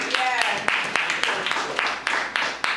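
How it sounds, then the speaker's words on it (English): A few people clapping slowly indoors, sharp, evenly spaced claps roughly every quarter second, close, with people talking over them. "I'll have to clap to that."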